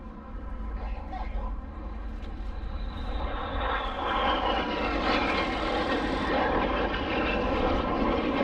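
Red Arrows synchro pair jets at the RIAT 2022 airshow roar past as a continuous, building engine rumble with a rising whine, loud and sustained, while a commentator talks over the PA.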